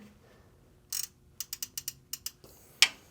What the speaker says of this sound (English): not when it's making that ratchet noise